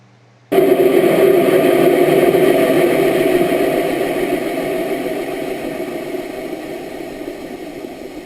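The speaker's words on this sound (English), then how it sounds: "the sound of the engine starts to diminish as if maybe A's run out of fuel" An amateur rocket engine fires during launch, a sudden loud roaring blast that starts abruptly and holds steady, then slowly fades and weakens over several seconds.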